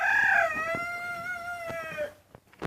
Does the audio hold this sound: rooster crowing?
yes